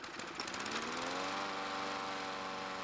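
A gas lawn mower engine being pull-started and failing to catch, a rough sputtering burst that strains briefly and dies away, heard close and alone.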